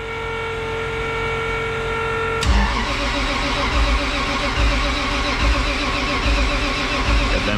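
A Camaro engine cranks and fires into a steady idle after about two and a half seconds of quieter background hum, loud and close with uneven low pulses as it settles.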